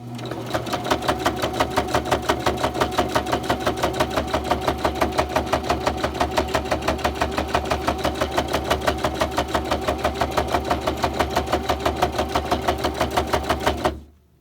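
A sewing machine back stitching fabric for a Christmas stocking runs in one continuous fast mechanical chatter, loud and close, with a steady rhythmic needle beat that stops abruptly at the end.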